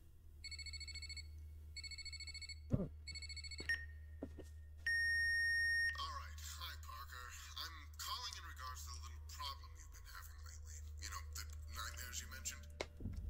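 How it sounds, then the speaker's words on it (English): Phone ringing in a video game, three evenly spaced electronic ring bursts followed by a sustained beep, then a dense burst of game sound effects with a few sharp clicks and a voice talking quietly over it. "there's a phone call"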